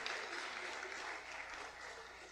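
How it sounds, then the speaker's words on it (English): A crowd at a community media awards ceremony applauds students, a dense, steady wash of clapping that fills the room from start to finish without letting up. "Let's give a round of applause for these students for their hard work and their demonstration of leadership."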